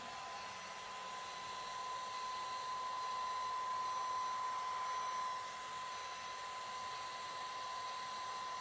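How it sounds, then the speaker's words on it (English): A steady high-pitched electronic tone from a laser hair removal device holds without a break, with a faint hum beneath it and no separate beeps. "sometimes you'll hear it just beep, like a single beep"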